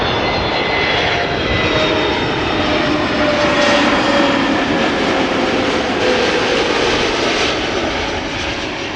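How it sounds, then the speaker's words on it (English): An Arkia Airbus A321neo in new livery arrives at Amsterdam Schiphol, its engines a loud, steady roar that swells slightly as it passes, with no voices. "Arkia A321 Neo will be coming in pretty soon."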